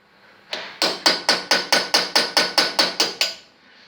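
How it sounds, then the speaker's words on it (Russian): A hammer chips scale and grime off a Volkswagen Golf 1.6 cylinder head during repair for TIG welding, giving eleven sharp, evenly spaced metallic strikes close up in quiet surroundings. "Вот мы все это обрубываем. Окалину, вернее грязь, окись"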